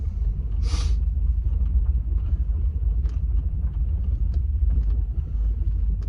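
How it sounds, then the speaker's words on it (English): Toyota Tundra pickup truck on the road, heard from inside as a constant low engine and road rumble, with a brief hiss of wind noise near the start. "We are driving this particular truck."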